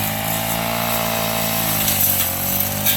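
A grass cutter runs outdoors in the morning, cutting grass among mango and pineapple plants, giving a loud, steady, high-pitched engine whine that holds constant with a slight shift in pitch partway through.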